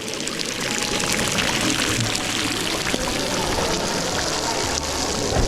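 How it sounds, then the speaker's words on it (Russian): Water drips from a rock crevice at a cenote near Valladolid, Mexico, continuous splashing onto a surface, a steady broadband pouring and trickling that stays fairly even throughout. "Сверху из расщелины скалы падают капли воды."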